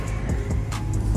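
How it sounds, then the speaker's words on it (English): An Acura NSX sports car being driven, heard from inside the cabin as a steady, close engine rumble with continuous road noise and no talking. "I'm driving the NSX, bro"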